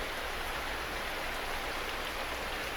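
Steady rain falls outside in the cold, a dense, even hiss of drops with no breaks, heard alone without voices.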